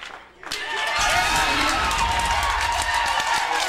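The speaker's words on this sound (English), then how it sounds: "From the crowd reaction, it appears like he got there." Spectators at a 2000 boys' 1-meter high school state diving competition in an indoor pool hall break into a swelling roar of cheering and clapping that rises after a quiet half second and holds loud throughout.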